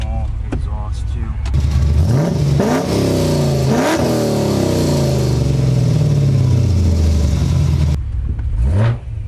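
A V8 engine revs hard several times through a small exhaust, the exhaust roaring up and down in loud, close bursts before cutting off near the end.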